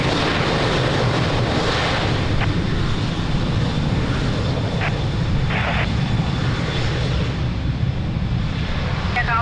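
Airliner engines roar at Lisbon Airport as an aircraft is cleared for takeoff on runway 02. The rumble is broad, loud and unbroken, with wind noise and faint radio chatter mixed in.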